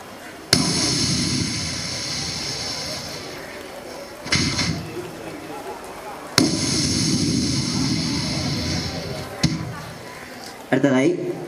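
At a school arts festival mimicry stage, a performer imitates sky-shot fireworks with his voice: two long hissing whooshes, each ending in a sharp bang, loud over a hall microphone.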